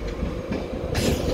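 An LNER Class 91 electric locomotive roars at Newcastle station, a steady rumbling drone with rail noise that swells louder toward the end, heard from the platform.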